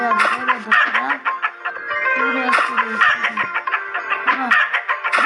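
Repeated chicken clucks and squawks sound nonstop, with electronic game sounds and background music playing underneath.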